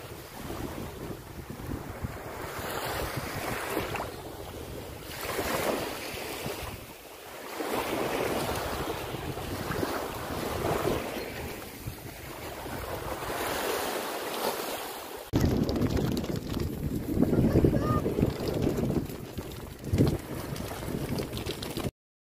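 Wind gusts buffet the microphone at a beach in Italy, a loud rushing roar that swells and fades over surf, continuing steadily throughout.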